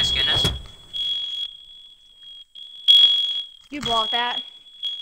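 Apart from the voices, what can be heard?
smoke alarm beeping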